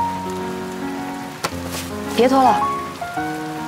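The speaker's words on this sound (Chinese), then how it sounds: "这么大了雨" Heavy rain pours in a steady background hiss while a person speaks over it and sustained musical tones run alongside.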